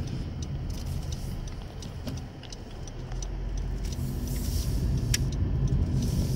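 A 2017 Honda Civic EX cruising at highway speed on cruise control, with a steady low road and engine rumble plus tire noise filling the cabin throughout.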